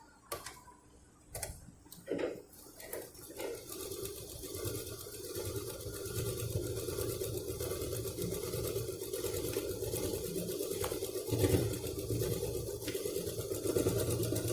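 A sewing machine stitches lining cloth for a homemade fabric purse. A few taps come first, then a steady, moderately loud mechanical whir with a fast ticking rhythm runs continuously.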